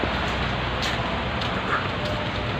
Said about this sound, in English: It's raining and I'm in Qatar.